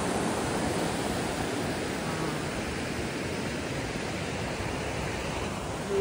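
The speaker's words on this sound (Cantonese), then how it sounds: "呢度就係兩河口啦，兩條河匯聚嘅一齊。" River water rushes steadily at Lianghekou, where two mountain rivers meet, making a constant, even, full-bodied roar that stays unchanged throughout with no voices.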